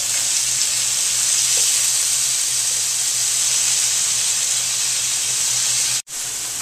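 Chicken strips for fajitas sizzle steadily in a hot pan, a loud, even frying hiss that holds for about six seconds before cutting off abruptly.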